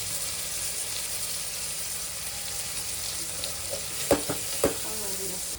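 Onions frying in very hot oil in a pan, a steady close hiss of sizzling that runs throughout, with a couple of sharp stirring knocks near the end and no voices.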